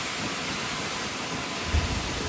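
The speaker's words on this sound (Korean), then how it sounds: "비가 너무 많이 와서 우산을 빌렸어요" Heavy rain pours down steadily outdoors during a day at a Nha Trang amusement park, a dense unbroken hiss with a brief low thump near the end.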